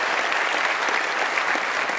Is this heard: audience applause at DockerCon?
yes